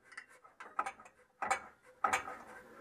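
Metal exhaust pipe on a Classic Mini being twisted loose by hand, giving three or four short scraping, ratcheting clunks of metal on metal at close range, with no voices.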